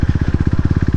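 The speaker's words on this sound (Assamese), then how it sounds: "কি ধুনীয়া চাউণ্ড এটা ওলাইছে বাইকখনৰ পৰা।" A KTM RC390 motorcycle engine running with its exhaust removed, a loud, close, rapid and even pulsing throb with no talk.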